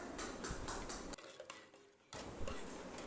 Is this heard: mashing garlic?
yes